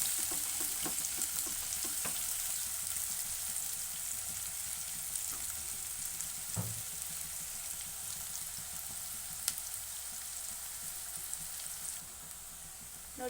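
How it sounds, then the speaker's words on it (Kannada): Chopped onions and a few curry leaves frying in a pan for rajma curry, a soft continuous sizzle with occasional light taps and scrapes from stirring, no one talking. "ನೋಡಿ, ಇದು ಫ್ರೈ ಆಗ್ತಾ ಇದೆ."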